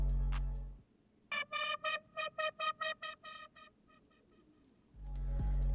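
A Serum synth lead patch called Lead GLE plays a chopped, stuttering run of bright tonal pulses shaped by a Shaperbox effect, about a dozen gated notes fading toward the end, framed by louder thumps at start and finish.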